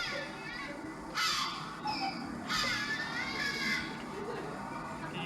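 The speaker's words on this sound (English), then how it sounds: "Seagulls! Yes. It's seagulls." Seagulls calling with harsh, raucous cries in a few loud bursts over steady background noise, near and prominent, in a comedic summer seaside setting.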